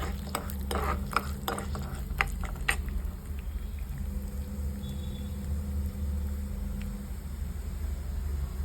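Urad dal frying in oil in a pan while cooking Pondicherry sambar, a steady low sizzle under a continuous hum, with a few quick stirring scrapes and clicks early on and no talking.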